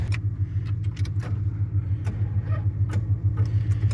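An old truck engine cranks on a weak battery with a slow, labored, evenly pulsing churn that repeats without catching, heard up close and alone.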